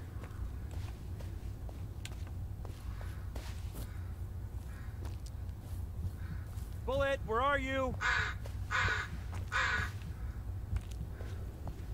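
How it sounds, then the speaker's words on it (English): A crow caws in the Blair Witch video game, a short run of harsh calls midway through against a low rumbling outdoor ambience with faint footsteps. "I don't like the crow sound."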